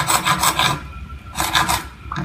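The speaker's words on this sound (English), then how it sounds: "Take my junior hacksaw." A junior hacksaw cuts into a plastic surface-mount electrical box in three bursts of quick, raspy back-and-forth strokes, close and fairly loud, with short pauses between them.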